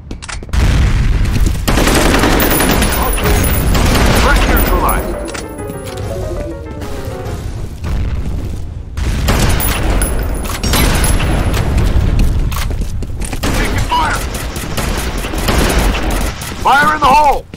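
Grenade blasts and bursts of gunfire in the PC shooter F.E.A.R., loud and dense, with heavy booms and rapid shots running almost nonstop and shouted voices over the combat.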